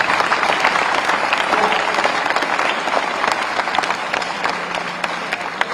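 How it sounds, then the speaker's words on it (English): An audience at a live event gives loud, sustained applause for guest speaker Pradip Mukherji, a thick wash of clapping with a few sharper individual claps standing out and no talking over it. "Can we have a loud applause?"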